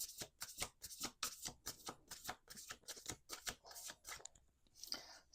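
Close, crisp riffles of oracle cards being shuffled by hand, coming in rapid repeated bursts that trail off near the end, with no voices.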